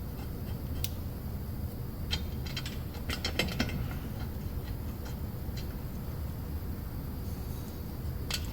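A ratchet tightens bolts on the rear pinion of a Ford F150, giving faint, scattered metallic clicks over a steady low rumble of background noise.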